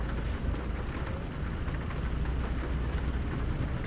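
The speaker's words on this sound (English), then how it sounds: "it's raining" Steady rain falls during a drive in American Truck Simulator, in a Freightliner Cascadia fitted with a DD13 engine, a constant broadband patter with a low rumble underneath, even and unbroken throughout.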